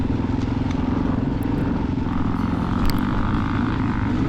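A 2003 Suzuki DRZ 400E dirt bike engine running during a cross-country race, a close, steady, buzzing single-cylinder drone with slight rises in revs, heard alone with no talk.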